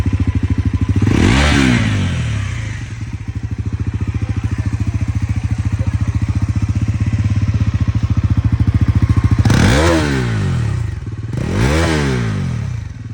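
A Bajaj Pulsar NS400Z motorcycle idles with a loud, steady exhaust thrum, then gets blipped three times, each rev rising sharply and falling back to idle, close and clear.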